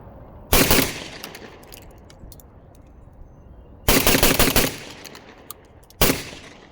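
A Beretta 1301 Tactical shotgun fires in three sharp, loud bursts of rapid shots with quiet gaps between them and faint background noise.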